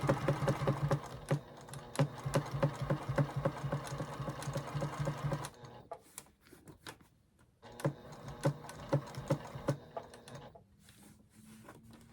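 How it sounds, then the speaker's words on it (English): A sewing machine stitches a ring around a roof in a van conversion, running in a fast, steady mechanical chatter, then pausing briefly before another shorter run, close and moderately loud. "I'm going to go ahead and put a machine sewn ring around the roof."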